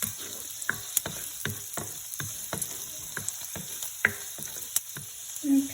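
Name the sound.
sautéing shrimp in a pan on medium heat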